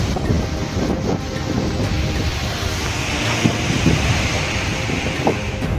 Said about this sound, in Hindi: बालासोर के चांदीपुर में भी तेज हवाएं चल रही हैं।